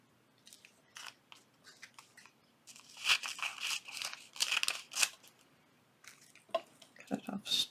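Scissors snip through a sheet of acetate at close range in a few short bursts of crisp cuts, with quieter handling rustles between them and no talking.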